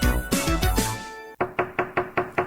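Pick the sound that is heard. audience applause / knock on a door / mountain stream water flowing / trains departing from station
knock on a door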